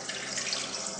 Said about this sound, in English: So I need a bowl and hot water. Therefore, I pour some hot water